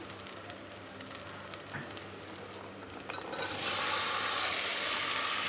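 Tomatoes go into a pot of country chicken biryani and begin frying, a soft steady sizzle with faint stirring that swells louder and hissier toward the end, no voices.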